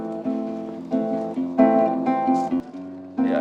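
Guitar playing a short bossa nova pattern with syncopated, plucked chords in an easy Latin rhythm. It is moderately quiet and close, with no talking over it.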